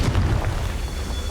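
A Confringo fire blast spell going off in Hogwarts Legacy, a short, loud boom with a low rumbling roar that fades over about a second.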